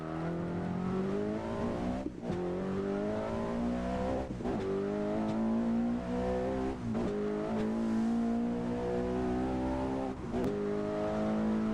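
Engine of a Volvo S60R, front-wheel drive, in Assetto Corsa, revving loudly and continuously, with its pitch rising through the gears and dropping briefly at each shift.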